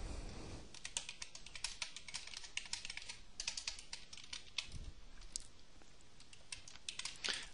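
Quiet, rapid typing of code on a computer keyboard, a dense stream of soft key clicks throughout with a few slightly louder presses and no speech.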